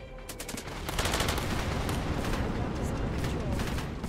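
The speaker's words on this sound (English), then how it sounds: "get an airstrike in there as well" An airstrike in the video game Cepheus Protocol, heavy rolling barrages of explosions and gunfire building after a quieter start into a loud, dense, continuous rumble with scattered sharp cracks.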